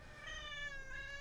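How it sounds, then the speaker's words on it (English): An angry house cat lets out one drawn-out, strained meow with a wavering pitch, close by and fairly faint, with no talking. "My cat just clawed me and then got stuck and very mad at me."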